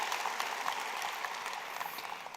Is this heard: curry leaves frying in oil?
no